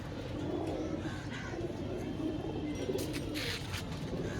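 Pigeons coo steadily in a dense, low murmur, several birds overlapping nearby with no pauses, against a constant background hum.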